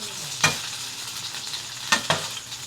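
Sardines sautéing in a pan for ginisang sardinas, a steady close sizzle with a few sharp stirring scrapes.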